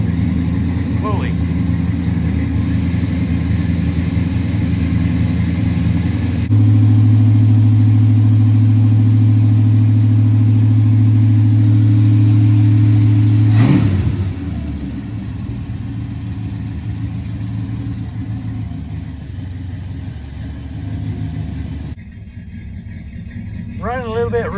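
An old car's engine idles unevenly and runs rough, a loud low droning hum that steps up in level partway through, then drops back with a sharp transient and settles lower, with a voice speaking near the end.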